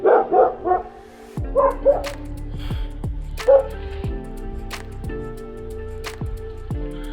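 Several dogs bark in bursts near a snowy roadside in the Miyar Valley area of Lahaul, Himachal Pradesh, with loud clustered barks at first, then scattered yips and whimpers over a vehicle idling.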